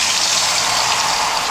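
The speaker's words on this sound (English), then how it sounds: "1 cup of water." Water pours steadily into a pan holding whole bok choy, a continuous close gush and splash with no talk, for a Chinese-style cooking of pak choi.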